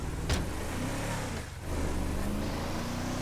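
A car engine in Grand Theft Auto V revving steadily and close, with a brief dip in the middle before the drone picks back up and holds.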